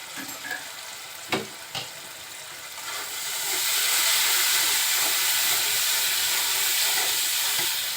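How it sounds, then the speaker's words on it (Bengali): Spice masala with cumin powder fries in a pan for a papaya and potato curry. A couple of sharp utensil clinks come first, then the hiss swells into a loud, continuous close sizzle. "মশলাটা খুব সুন্দরভাবে কষিয়ে নেব"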